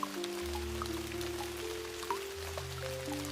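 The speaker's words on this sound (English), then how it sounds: "Clara Hayes woke to the soft patter of rain on the tin roof of her studio" Rain patters softly on a tin roof, scattered light drops tapping steadily beneath sustained low musical tones, with no one talking.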